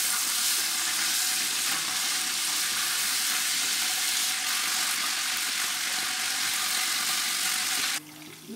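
Tomato paste frying with browned onions for Nigerian party egusi soup, a continuous loud hissing sizzle up close with faint stirring scrapes, cutting off abruptly near the end, no voices.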